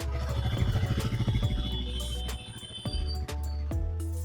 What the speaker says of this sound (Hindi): this is the idol sound